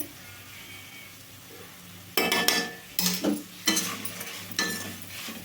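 Potatoes with chili-garlic powder frying in a pan, stirred in several loud scraping bursts over a steady sizzle, with quiet gaps between the strokes.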